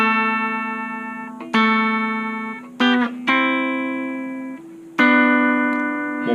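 Electric guitar plays the second half of a riff in a few plucked, ringing notes with a distorted, effects-laden tone, each note left to sustain and fade, close and alone.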